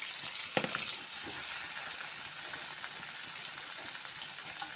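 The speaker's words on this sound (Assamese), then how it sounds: "এতিয়া আমাৰ ভেন্দি ভজা হৈ আছে" Okra with a little turmeric fries in a pan with a steady, close sizzle and a few brief stirring scrapes.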